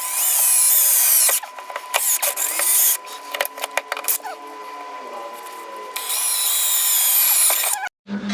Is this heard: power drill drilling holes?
yes